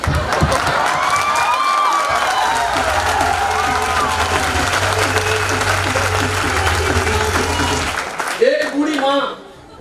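A crowd at a training workshop in Chhindwara bursts into sustained applause with cheers and shouts, loud and dense for about eight seconds before tapering off, with voices mixed in throughout.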